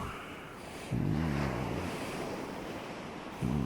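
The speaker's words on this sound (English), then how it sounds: "listen to the sounds of the waves very gently as they bring themselves closer to the beach" Gentle ocean waves wash onto a sandy beach, with a soft swell that rises twice and a steady quiet hiss of surf in between, heard alone and calm.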